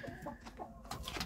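A hen clucks in a short, close burst of several rapid, uneven clucks, heard alone without talk.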